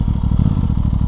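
A 2023 Aprilia Tuono 660 Factory motorcycle engine pulls hard and loud under acceleration while the rider power wheelies it, a dense throbbing drone with a rapid pulsing beat close to the microphone.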